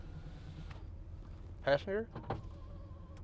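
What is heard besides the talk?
power windows of a 1986 GMC Sierra 1500 moving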